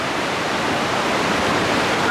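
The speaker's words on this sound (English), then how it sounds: "You gotta fill water." Water poured steadily from a bucket into an off-grid water tank pump to prime it, a continuous loud rushing splash with no pauses throughout.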